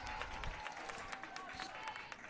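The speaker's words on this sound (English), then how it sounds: "Cheer comes up from the Pittsford faithful on that defensive play." Pittsford fans cheer a defensive play at a girls lacrosse game, a broad crowd roar of shouts and scattered clapping that holds steady throughout, moderately distant, with an announcer's voice faintly underneath.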